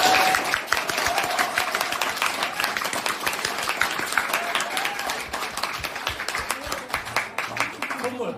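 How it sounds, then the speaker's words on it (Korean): An audience at a business presentation claps, a dense burst of applause that runs the whole time, loud and close, with voices mixed in. "진짜 힘이 나서 박수는 칠 때 화끈하게 쳐줘야 되거든요"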